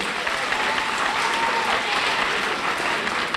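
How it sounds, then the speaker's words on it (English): An audience at an MLK birthday celebration claps their hands together in a brief, dense and even burst of applause that fills the room throughout. "Give me a hand clap if you really want to be great."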